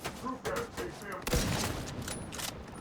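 Video game gunfire crackles in rapid bursts with thuds and mechanical clatter, fairly quiet, while a player talks over it.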